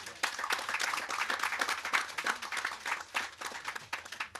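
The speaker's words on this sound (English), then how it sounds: "I wish for us to give them a round of applause." Audience applause at a handing-over ceremony for Mexican greenhouses: dense, sustained clapping from a crowd that holds steady for several seconds at moderate volume, with no talk over it.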